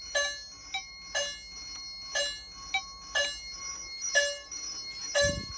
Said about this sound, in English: You can hear the chime in there.